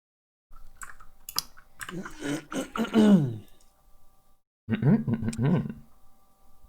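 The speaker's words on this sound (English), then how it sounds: "I'm clearing my throat all the time." Someone clears their throat in a few gruff, rasping bursts, close to the mic, with clicking noises and brief pauses between.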